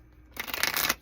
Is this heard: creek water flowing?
no